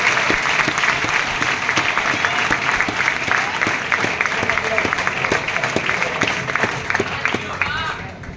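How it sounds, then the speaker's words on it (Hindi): Loud, sustained applause from an audience at an ICS Diwali gathering, honoring Sandeep: dense, even clapping with sharper individual claps standing out, and a faint murmur of voices underneath. "संदीप के लिए भी जोरदार ताली"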